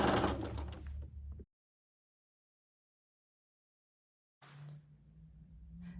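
A sewing machine chain-pieces quilt squares for a table runner: two stretches of close, steady mechanical whirring with a low motor hum, separated by about three seconds of silence.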